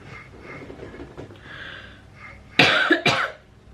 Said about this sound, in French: donc vous allez m'entendre tousser